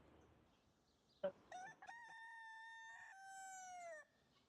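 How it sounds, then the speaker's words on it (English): A rooster alarm clock crows over a phone line: one loud, drawn-out cock-a-doodle-doo with a sharp onset and a sustained, harmonic-rich tone lasting about three seconds before cutting off, with quiet background hiss before it. "Well, I hear a rooster."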